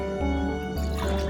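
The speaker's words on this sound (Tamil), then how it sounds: "மீதி இருக்கிற 4 கப் தண்ணியை ஊற்றிட்டு நல்லா கலந்து விட்டுறலாம்." Water being poured into a wheat halwa mixture for Tirunelveli-style halwa, a short close liquid pour with dripping and filling sounds, steady and moderately loud, with no one talking.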